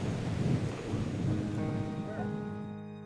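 Thunderstorm in the Bolivian countryside, a deep rolling thunder rumble over steady rain hiss, loud at first and fading out within a few seconds, alone without voices.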